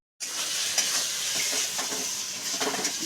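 Potatoes and prawns frying in a pan burst into a loud, steady sizzle after a brief silence, with stirring scrapes and soft clinks toward the end.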